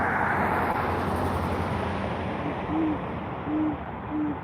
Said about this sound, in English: There's another owl over there somewhere.